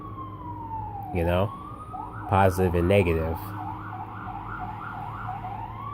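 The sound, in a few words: ambulance sirens outside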